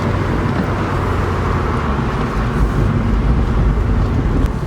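Steady, dense road and wind roar from inside a top-down Mazda MX5 Miata on VMAX coilovers driving in the rain, a continuous low rumble with no breaks and no talking.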